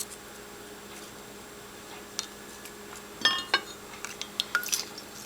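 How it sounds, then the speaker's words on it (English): Tea bags are lifted out of glass measuring cups of brewed tea, with quiet drips followed by several light, close clinks against glass. "Alright, it looks like my teas are ready. So I am going to remove the tea bags."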